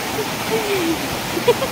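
Steady babbling water of a small village stream spilling down a little waterfall, a continuous rushing wash with soft gurgles, close and even throughout.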